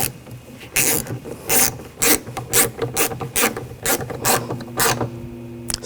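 Ratcheting clicks come from a screw being snugged down behind the rear door handle of a 2000-2006 BMW X5, in short repeated bursts of close mechanical rasping with brief pauses between strokes.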